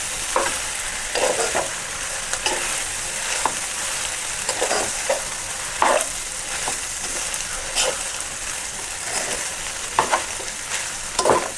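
Vegetable fried rice with a handful of coriander leaves gets stirred and tossed in a pan, a steady soft sizzle broken by repeated scraping and clattering strokes of the spoon, close and alone without talk.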